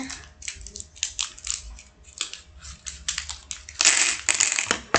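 Scissors snip and cut through a surprise egg wrapper in quick, crisp bursts, close by. Crinkling plastic builds to a louder stretch near the end.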